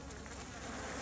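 Swarm of Africanized honeybees hanging with no comb, a dense continuous buzzing very close and loud, with no voices.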